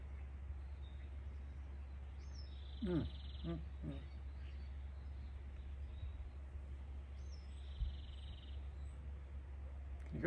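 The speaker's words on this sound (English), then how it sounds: "Can you hear the birds?" Faint bird chirps and short calls scattered over a steady low outdoor rumble, with a few brief higher whistles standing out from the background.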